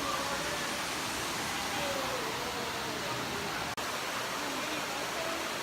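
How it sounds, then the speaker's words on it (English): A waterfall in Wisconsin produces a steady, broad rushing hiss of falling water, constant and moderately loud with no distinct breaks, heard from a lookout some distance away. "And then the waterfall is over there."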